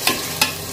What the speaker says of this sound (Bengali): একটু নাইড়ে নিতে হবে এখন আবার, যাতে ওই মশলাটা আবার এই পেঁয়াজের সাথে